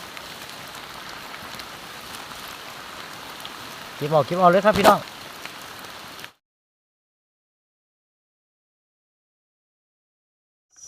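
Rain falling in a forest while mushrooms are being gathered, a steady soft hiss of drops on leaves, briefly covered by someone speaking before the sound cuts off into silence.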